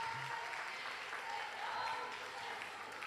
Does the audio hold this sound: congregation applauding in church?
yes